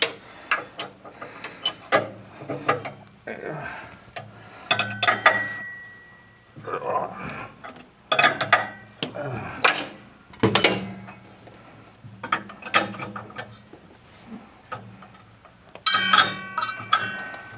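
Metal wrench clicks and clanks while 10-inch table saw blades with a 5/8 arbor are swapped, a series of irregular close ratcheting and tapping bursts with brief pauses between them.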